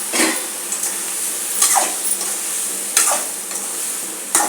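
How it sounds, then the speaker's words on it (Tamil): Brinjal and drumstick sauté in a pan, with a steady sizzle and periodic scraping stirs of a spoon against the metal, close and clear, no voices. "ஒரு 4 கத்திரிக்காய், ஒரு முருங்கைக்காய், அதை அதிலே சேர்த்து வதக்கிடலாம்"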